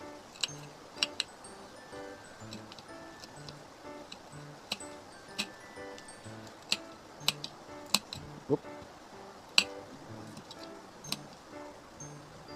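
A knife chops a tomato into small pieces on a board for an okra salad, giving irregular sharp taps, some in quick pairs, spread across a steady low background.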